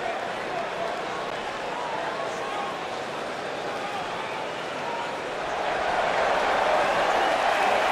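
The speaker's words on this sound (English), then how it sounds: "And Michael, it sounds to me like this crowd already picked the one who they want to win this match" Arena crowd noise from the WWE 2K19 wrestling video game, a dense continuous roar of cheering that swells slightly toward the end, with no clear speech on top.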